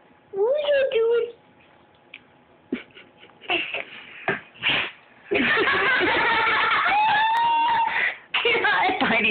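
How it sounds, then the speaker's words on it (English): A house cat gives a short meow early on, then further brief cat sounds come through amid bursts of excited human talking and rustling. "The kitty's just like sitting on top of him."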